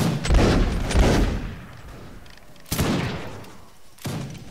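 Musket volleys fire in the video game Mount and Musket, a loud ragged burst of shots up front, then two more sharp volleys a few seconds apart, each trailing off into rumbling echo.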